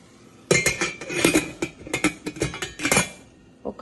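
Metal lid set onto a cooking pot of dal, a flurry of close clanks and rattling clinks over about three seconds, ending with a couple of softer taps.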